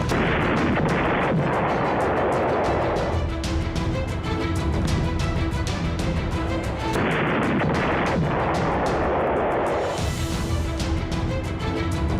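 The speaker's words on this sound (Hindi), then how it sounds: "अपने ताजा हमले में हिजबुल्लाह ने 120 रॉकेट दागकर कई इलाकों को दहला दिया" A Hezbollah rocket barrage launched toward Israel, heard as a loud, sustained roar of repeated launches and blasts that rises and falls over about twelve seconds with no talking.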